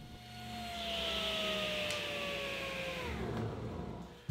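A saw rips a back band strip from 3/4 inch MDF, a steady whining roar that swells, holds, then drops in pitch and fades as the cut finishes and the blade winds down.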